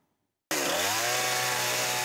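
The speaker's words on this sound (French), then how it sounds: "C'est la première fois qu'il manipule une tronçonneuse." A chainsaw bursts into a loud, steady cut through wood at a rural farm renovation site, run by a first-time trainee, roaring alone and close without pause after a moment of silence.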